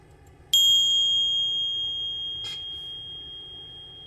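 A single bright notification bell ding rings out clearly and then slowly fades, followed by a brief faint tick partway through the decay.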